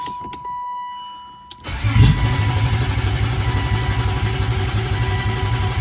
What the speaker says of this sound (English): I'm going to try and see if I can get the car started to run